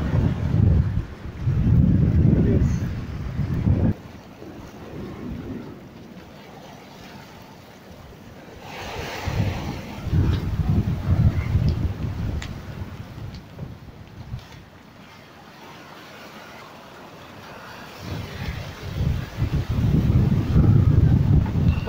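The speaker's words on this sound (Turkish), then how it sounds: "20 knot, 30 knot rüzgar" Strong 20 to 30 knot wind buffets the microphone aboard a sailboat on the Atlantic between the Canary Islands and Cape Verde, with rumbling surges of big waves rising and falling; no voices.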